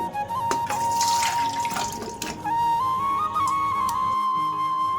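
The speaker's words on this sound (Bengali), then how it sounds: "আমগুলো ভালো করে ধুয়ে আমি জল ঝরাতে দেব" Raw mangoes being washed under running tap water in a sink, a steady close stream with a faint whistling tone and splashes as the fruit is handled.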